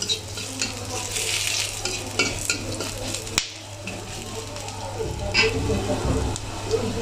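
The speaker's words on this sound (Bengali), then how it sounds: "আমি এখন এগুলো দিয়ে দিচ্ছি, দিয়ে আমি একটু লাল লাল করে ভেজে নেব।" Cardamom, cinnamon and bay leaves fry in hot oil for a chicken and potato khichuri, giving a steady close sizzle with spoon stirring and scraping throughout and a voice talking faintly underneath.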